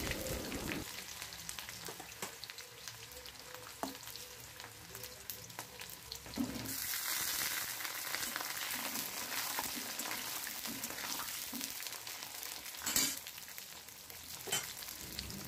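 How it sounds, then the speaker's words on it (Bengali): Potato pieces frying in hot oil with onion and whole garlic, a continuous close sizzle with a louder surge partway as more goes into the pan, plus light stirring clinks. "পেঁয়াজ রসুনটা হালকা ভাজা হয়ে গেলেই এর মধ্যে টুকরো করে কেটে রাখা আলুগুলো দিয়ে দেব।"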